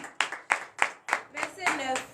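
A church congregation claps in unison during a morning prayer service in Benin, about seven close, loud, rhythmic claps at a steady beat over roughly two seconds.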